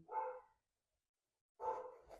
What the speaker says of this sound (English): I don't know if you can hear my dog in the background there.